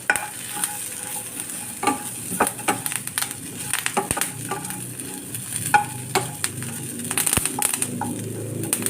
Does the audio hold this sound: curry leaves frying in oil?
yes